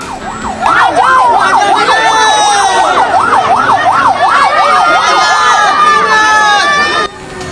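An ambulance siren wails loudly and close, rising and falling steadily for several seconds as the vehicle is escorted by people on foot toward an army battalion headquarters, with a news voice talking over it.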